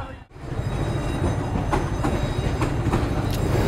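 A train rumbles past in Brahmanbaria town near a flyover amid a traffic jam, a loud, steady roar with rhythmic wheel clatter lasting several seconds after a brief dip at the start.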